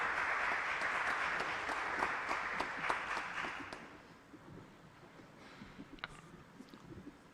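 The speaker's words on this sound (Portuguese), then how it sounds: "novamente uma salva de palmas" Applause from the audience at a symposium on natural birth, a dense burst of clapping that holds steady for about four seconds, then thins to a few scattered claps over quiet room noise.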